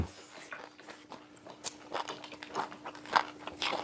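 Crunchy chewing of crisp seaweed or greens eaten alongside Pohang gwamegi, with repeated close bites and crackly mastication at an irregular rhythm, fairly quiet and without speech.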